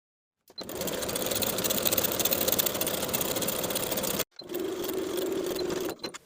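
A sewing machine runs fast and steady while stitching the outer and inner leg seams of stretch denim jeans. It stops briefly, then starts again for a shorter burst, close and clear with no talking.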